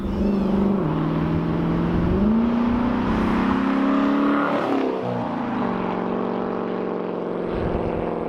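A 2015 Dodge Challenger R/T makes a flyby, its engine note rising loud and close as it accelerates past, pitch sweeping through the pass, then fading, with no talk over it.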